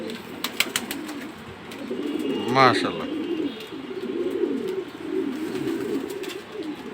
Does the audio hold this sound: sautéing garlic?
no